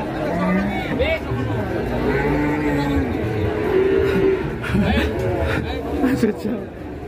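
Cattle low in a village where an angry cow has run amok and fallen into a ditch, drawn-out moos rising over a crowd's excited chatter and shouts close by.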